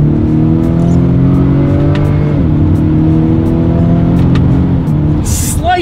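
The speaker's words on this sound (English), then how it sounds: "So let's test out the paddle shifters." A 2020 Acura RDX accelerating hard through paddle-shifted gears, its engine drone loud and close, climbing steadily with a brief dip at one shift before rising again, and a short hiss near the end.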